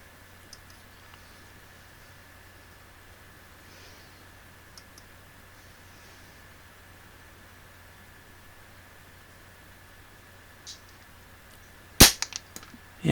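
A Webley Junior air pistol fires a JSB RS 7.33-grain dome pellet: one sharp, loud, close crack near the end after a long quiet stretch, followed by a few brief clicks.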